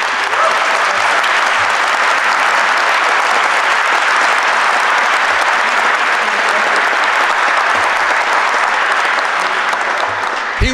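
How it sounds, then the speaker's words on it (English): An audience at a conference applauds in a long, loud, sustained burst of clapping that fills the whole stretch without letting up. "Why did you applaud?"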